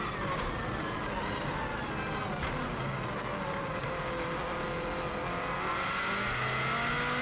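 Subaru WRX STI driven flat out on the Isle of Man TT course: a steady, dense engine roar with rising revs and road noise heard from inside the car, continuous and fairly quiet, with no speech.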